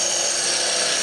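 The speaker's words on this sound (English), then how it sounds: "You'll notice I use the little end of my parting tool here as kind of a skew" A parting tool cleans up wood spindles on a spinning lathe, producing a steady, close, continuous scraping hiss over the running machine.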